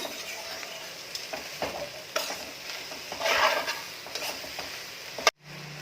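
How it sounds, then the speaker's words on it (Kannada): Chopped ridge gourd fries in oil in a pan, a close steady sizzle broken by scraping stirs of a spatula, ending with a sharp knock and abrupt cutoff, no voices. "ಇದು ಒಂದು 5ರಿಂದ 6 ನಿಮಿಷ ಎಣ್ಣೆಯಲ್ಲೇ ಫ್ರೈ ಆದರೆ ಸಾಕು."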